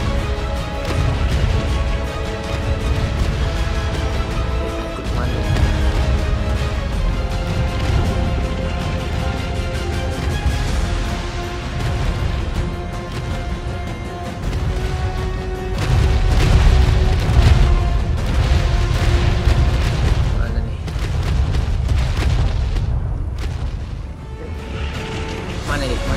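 Gunfire and explosions in the ARK multiplayer video game fighting three bosses, dense booms and mechanical clatter that keep going throughout, loud and continuous under a game music bed.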